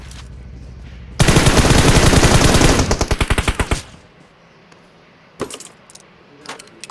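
A loud burst of automatic gunfire from the mobile game PUBG Mobile rattles for about two seconds, slows into separate spaced shots and stops, followed by a few faint clicks and taps.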